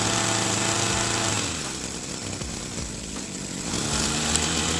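A small two-stroke petrol spray pump engine runs steadily up close, a buzzing rattling drone that dips slightly in the middle before rising again.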